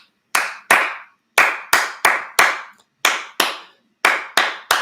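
Sharp, close hand claps tapping out a guitar strumming rhythm, twelve crisp claps in uneven groups of two and three with brief pauses between, loud and alone.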